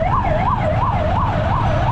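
An ambulance siren wails in traffic, its pitch rising and falling in a steady, repeating sweep about twice a second, loud and close over a constant low rumble of road and engine noise.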